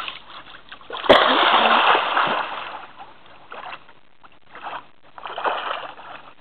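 A person jumps from a boat and hits the water with one sharp, loud splash, followed by sloshing and rippling. Voices talk faintly afterward.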